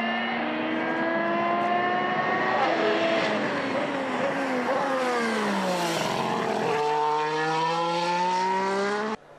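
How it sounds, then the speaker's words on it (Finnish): A 2014 Formula 1 car with a turbocharged V6 engine drives during winter testing at Jerez, its engine note loud and steady, pitch rising and falling through gear changes, then cutting off abruptly at the end. "Uusien turbomoottoristen autojen äänistä on ollut paljon keskustelua ja tältä ne nyt kuulostavat."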